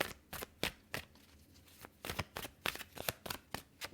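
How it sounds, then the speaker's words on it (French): Tarot cards being shuffled by hand, a run of quick crisp riffling bursts in an uneven rhythm, close and quiet. "On va battre les cartes."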